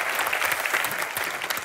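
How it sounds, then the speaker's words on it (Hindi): Enthusiastic studio audience applause on the Hindi comedy show Comedy Nights With Kapil, a dense, steady wash of many hands clapping at close range, continuous and even throughout with no talk over it. "जोरदार तालियां"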